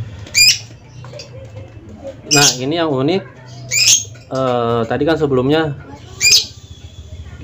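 A female jumper songbird at a field setting, calling after being shown the male: several short, sharp chirps and warbling bursts spaced a second or so apart, close and clear, while someone speaks between and around them.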